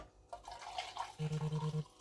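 Hot stock poured into metal tins for tomato soup, a short liquid splash and trickle followed by a rhythmic series of about six pulsing glugs near the microphone, with no talk.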